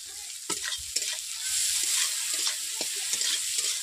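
Chopped onions with a pinch of salt fry and lightly brown in a pan for a tangy katla fish curry, a steady sizzle broken by several distinct scrapes and knocks of stirring, close and with no voices.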